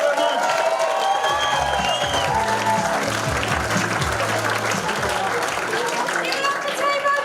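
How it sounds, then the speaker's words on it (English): Sustained audience applause and cheering fill a live standup comedy competition between acts, loud and continuous throughout, with a voice speaking over the crowd. "Keep the round of applause going."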